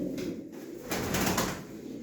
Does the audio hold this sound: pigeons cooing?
yes